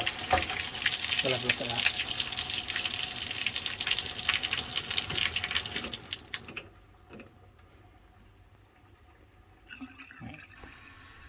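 Water runs steadily from a sink tap and drains away, a loud continuous rush that cuts off abruptly, leaving faint drips, clinks and a brief spoken remark.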